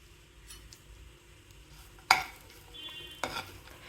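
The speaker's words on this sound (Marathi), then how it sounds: "आता आपण यामध्ये आपले जे ड्रायफ्रुट्स आहेत बारीक कट केलेले ते रोस्ट करून घेणार आहोत" Finely chopped dry fruits roast in ghee in a pan over a low flame for sabudana kheer. A faint, quiet sizzle runs throughout, broken by two sharp scraping clinks of a spoon against the pan.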